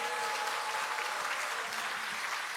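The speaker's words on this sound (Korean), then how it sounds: "우리 상임 고문님들께 뜨거운 박수를 보내주시기 바랍니다." Warm applause for the party's standing advisers at the Democratic Party's 70th anniversary ceremony, a large hall crowd clapping in a dense continuous wash, heard from a distance and fairly soft.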